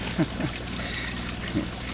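Water trickling from a nearly closed shut-off valve on a pump, a soft continuous dribble and splash, close by, with brief vocal sounds over it.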